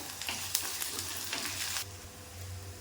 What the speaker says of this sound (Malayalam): ഇതിലേക്ക് ഇഞ്ചി ചേർത്ത് കൊടുക്കാം ഇഞ്ചി നന്നായിട്ട് മൂക്കണമല്ലോ